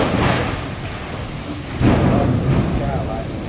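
Heavy rain pours steadily during a severe thunderstorm at the Kansas City Zoo, with a low rumble of thunder swelling partway through, loud and continuous, with no voices.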